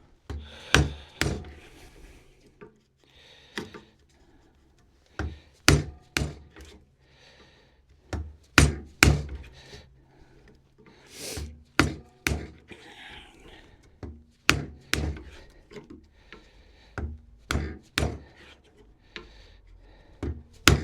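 Chisel cutting into wood while building a dog gate, a series of sharp, close knocks and thunks in irregular bursts with brief rasping scrapes between strikes.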